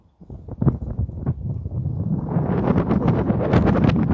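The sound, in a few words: wind at the Parthenon in Athens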